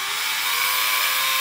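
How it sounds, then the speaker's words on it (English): A drill fitted with a 1/8 drill bit bores out holes in a B.C. Tactical CSA Scout Mount, giving a short, steady, high whine with no talk. "Sometimes you'll be required a 1/8 drill bit to drill out the holes."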